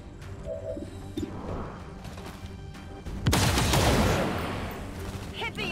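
A sniper rifle in the XCOM 2 strategy game fires a single heavy shot after some quieter game sounds, followed by a loud, crashing impact and rumble that fades out.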